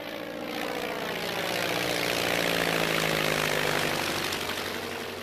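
A Piper Cub light propeller airplane drones steadily and loudly, its engine swelling slightly in the middle before easing off. No voices are present.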